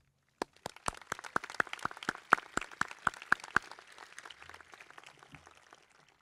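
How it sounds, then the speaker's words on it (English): At a university class induction, a single pair of hands claps sharply a dozen or so times in a quick, even rhythm, followed by softer scattered claps fading out. "Can we give Alex a round of applause?"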